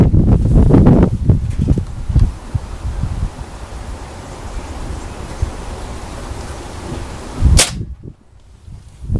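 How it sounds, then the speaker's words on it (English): Rifle shots fired at a 25-yard range: a few sharp cracks stand out, with one loud close report near the end, separated by stretches of quieter outdoor rustle and wind. "Full shot. Don't forget, this is still at 25 yards on all the guns."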